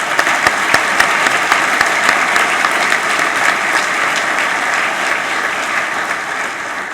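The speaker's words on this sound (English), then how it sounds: "Let's give him another round of applause." Sustained applause from a large audience at a formal convocation ceremony, steady and full for the whole stretch, with dense clapping and no voices over it.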